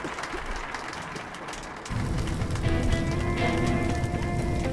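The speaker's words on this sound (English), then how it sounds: "A round of applause to welcome the performers." A theatre audience in the video game Metro: Last Light Redux breaks into applause, a dense steady patter of clapping that swells partway through and holds at moderate volume.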